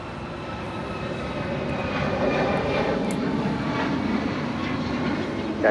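Aircraft engines roar steadily on the south side of Los Angeles International Airport, a broad sustained drone that swells slightly, with faint radio chatter beneath.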